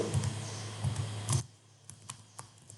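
Keys on a computer keyboard tap in quick bursts while data is typed into an Excel spreadsheet, close and crisp, then fade to sparse single clicks.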